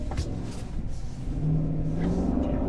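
A 2023 GMC Sierra AT4X V8 pickup engine revs up on snow and rumbles steadily louder, a low mid-pitched drone building over a couple of seconds with no talking.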